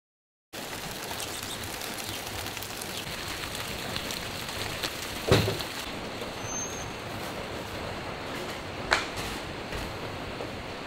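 Steady rain falls on a workshop roof, a constant even hiss with a couple of brief louder knocks, no voices.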